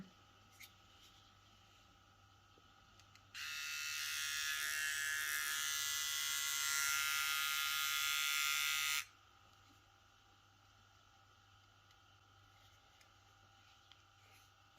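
A VGR V393 one-blade electric shaver switches on and buzzes steadily for about six seconds before cutting off, close and alone, with quiet handling before and after.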